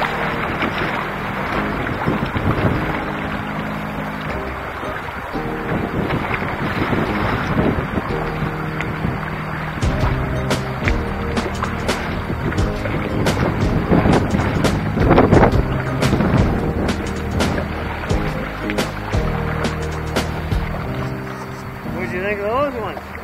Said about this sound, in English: Waves splashing off the bow and everything